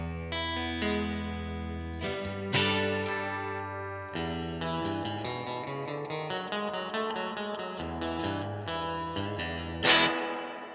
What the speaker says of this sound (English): Okay, so there's definitely a lot of reverb on board.